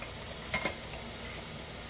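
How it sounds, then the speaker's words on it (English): Sterilized metal canning lids set onto filled jars of peaches make two quick light clinks close by, then a faint hum continues. "putting the lids on"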